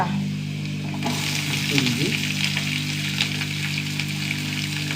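Onion and chana dal frying in hot oil, a steady close sizzle and crackle running throughout with a few stirring clinks in the middle.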